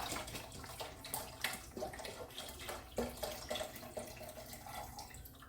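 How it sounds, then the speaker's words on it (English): Chicken broth pours steadily into a pot, a continuous splashing rush with small bubbling surges throughout, close by. "Pour the chicken broth in."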